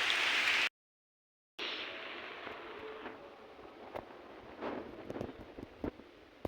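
Heavy rain pours down outdoors as a dense, steady hiss. It cuts out briefly near the start, then returns with scattered louder drop taps.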